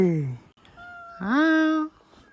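A cat meows twice: a short, falling call, then a longer, drawn-out meow that rises and holds before cutting off, heard close and clear at home.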